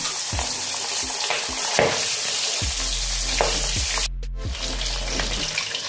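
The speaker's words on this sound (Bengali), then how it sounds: "আমি মাছগুলো দেওয়ার সাথে সাথেই ঢাকা দিয়ে দিলাম, কারণ তোমরা দেখেছো খুব জোরে জোরে ফাটতে শুরু করছে" Singi catfish fry in hot mustard oil with a loud, continuous sizzle and sharp spattering pops. A lid is set down partway through, and the crackle is muffled for a moment before returning.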